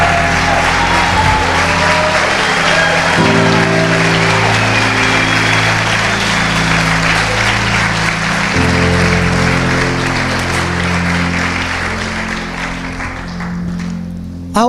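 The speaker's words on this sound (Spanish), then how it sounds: "aplauda al Señor" A church congregation claps together in sustained applause, dense and steady, while sustained musical chords shift underneath. The applause slowly thins toward the end.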